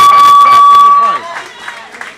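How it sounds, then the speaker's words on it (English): Applause and crowd noise at the end of an amateur boxing match at a boxing club, a loud burst of clapping and cheering mixed with a steady tone that fades into murmuring and voices. "Round of applause."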